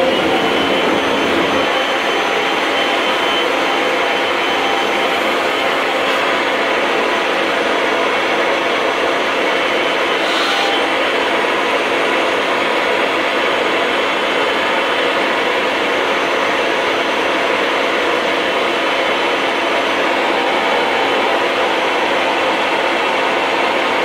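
A Kirby vacuum cleaner running steadily for an airflow test, a loud, constant whooshing motor roar with a faint whine, unbroken throughout with only a brief shift in tone near the start.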